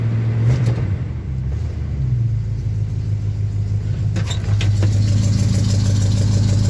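A loud, cold old Chevy C10 pickup engine runs steadily nearby in poor shape, a deep rumbling idle with a few small clunks and rattles over it.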